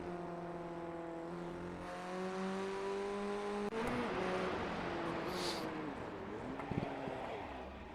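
A Formula Ford 1600 race car engine in the iRacing simulation at Brands Hatch Indy drones steadily, then shifts and wavers as the car spins into the grass, with rough noise and fluctuating engine pitch.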